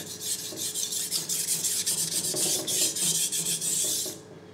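A kitchen knife blade is drawn across a sharpening surface under light pressure, making rapid, close rasping strokes in a continuous run that stops abruptly near the end.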